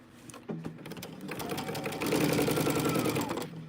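Sewing machine stitching a quilt, a steady fast mechanical whirr that starts after a soft handling knock and grows slightly louder midway, running close and continuous with no talk.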